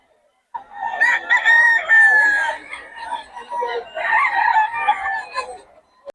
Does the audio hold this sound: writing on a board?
no